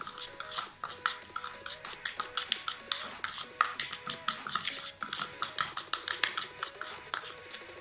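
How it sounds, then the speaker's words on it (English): Coffee and turmeric scrub being mixed in a small bowl, with a spoon scraping and clinking in a quick, steady rhythm of close, fairly soft strokes throughout. "I mix it well."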